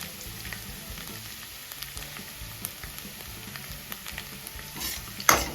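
Garlic sizzles in hot oil in a pan for idly manchurian, a steady frying crackle with soft stirring knocks and a louder clatter near the end.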